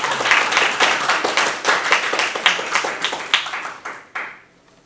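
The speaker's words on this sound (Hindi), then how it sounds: "तालियां कम बजी ज़रा।" An audience at a poetry and book-launch gathering applauds in a quick, rhythmic burst of clapping that pulses steadily for about four seconds, then stops abruptly with one final clap.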